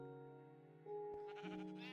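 A sheep bleats in a video game, a wavering, nasal cry that rises and shifts pitch over about two seconds, heard close and alone with no talk.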